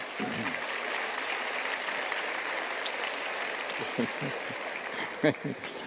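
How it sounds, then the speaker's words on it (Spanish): A lecture audience applauds Mario Vargas Llosa's talk on Victor Hugo with sustained, dense clapping that fills the hall at moderate distance, while a few brief voice sounds rise near the end. "no sé exactamente qué aplauden"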